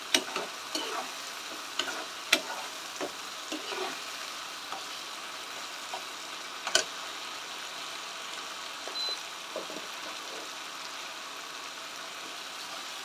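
Hot water poured into hot oil in a pan for Bengali-style rui posto, giving a sizzling, crackling hiss with scattered sharp pops and clatters, settling into a quieter steady simmer, no voices.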